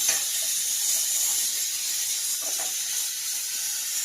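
Radish leaves, chopped radish and capsicum with a little chilli fry in a pan, giving a steady, close hiss and sizzle that holds evenly throughout with no talking.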